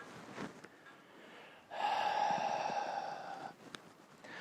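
One long, audible breath in through the nose during a Pilates exercise, rising and holding for about two seconds, with softer breaths before and after.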